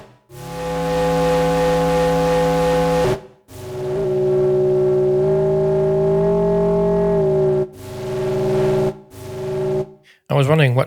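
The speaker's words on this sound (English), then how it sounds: "but it was a square LFO that sort of like started to sort of like beat at the high speed." An Elektron Syntakt synth plays a loud, sustained, buzzy tone with a fast square LFO that makes it throb and beat. Long held notes are split by brief gaps, and the sound ends in a warbling sweep.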